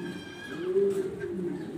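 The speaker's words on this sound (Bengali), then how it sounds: "ব্ল্যাক কালার ড্যানিশ কবুতর" Low cooing from a black Danish pigeon rises and falls for under two seconds, close by, with faint background noise and a hint of voice.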